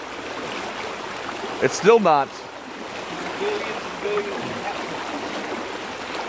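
Water rushes steadily through a broken dam, a constant broadband roar heard close by, with a brief spoken phrase and a few quieter voices over it.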